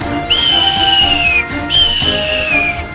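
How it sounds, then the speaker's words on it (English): A steam engine whistle gives two long, high blasts, each holding a steady tone before dipping slightly, with a short break between them. "He whistled through Edward's station"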